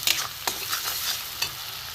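Spices and red chili powder frying in hot oil for a Bengali mustard fish curry, with a close, steady sizzle and a few sharp scrapes of stirring, no voice.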